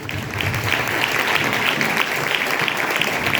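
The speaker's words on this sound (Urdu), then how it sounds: "آئیے ذرا زوردار تالیاں دیں۔" An audience at a religious talk claps together in steady applause, dense and even from many hands, fairly loud and continuous for a few seconds with no voices over it.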